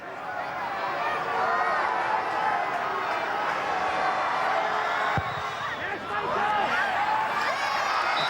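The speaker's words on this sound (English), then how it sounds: "The reaction from the crowd would suggest that it's bang on target" A stadium crowd at a Donegal v Tyrone Gaelic football match in 2015 swells into a steady roar and cheering after a free kick, broad and sustained, with a commentator talking over it.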